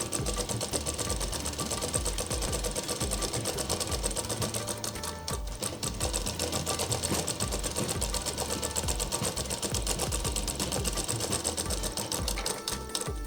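A sewing machine runs steadily, double-stitching the armhole seam of a Patiala kurti sleeve, its busy mechanical whir continuous and close throughout with only a brief dip midway.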